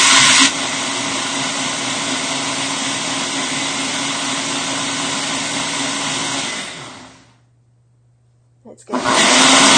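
A blender whirring at high speed through rolled oats for a vegan creamer, a loud steady roar for about seven seconds that winds down and stops, then the motor starts again at full power.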